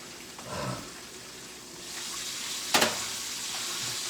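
Chicken fries quietly in a pan with a soft, even sizzle. A single sharp clink comes as a piece is turned over.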